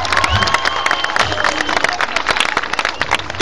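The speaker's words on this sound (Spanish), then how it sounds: "¡Fuerte el aplauso!" A loud outdoor crowd at a public gathering in Cancún claps, cheers and shouts together, the clapping dense and irregular with whoops rising through it, close and lively from start to finish.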